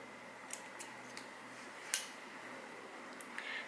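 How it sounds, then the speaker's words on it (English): Scissors cut crochet thread close up, giving a few quiet, sharp snips spread across a few seconds, with one crisper cut standing out in an otherwise hushed room. "Insert the needle in the point and cut my thread."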